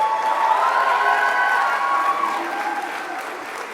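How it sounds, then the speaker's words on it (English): A graduation ceremony audience applauds the parents, grandparents and families who supported the graduates, a full sustained round of clapping from a large crowd that fades slightly toward the end. "So how about a round of applause for that group?"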